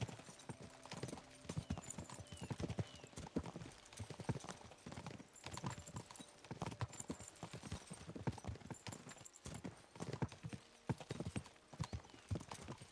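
Horses galloping in Kingdom Come: Deliverance 2, hooves clip-clopping in fast, continuous beats with an occasional whinny, fairly faint, with a few soft voices now and then.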